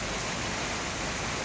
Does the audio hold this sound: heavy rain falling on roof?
yes